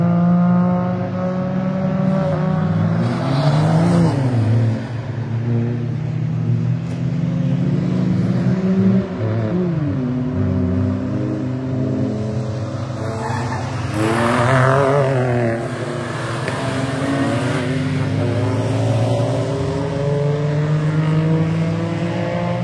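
A Honda Today budget race car driving laps, a loud, continuous engine drone with repeated rising and falling revs as it accelerates, shifts and passes by at close range.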